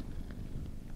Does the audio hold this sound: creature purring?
yes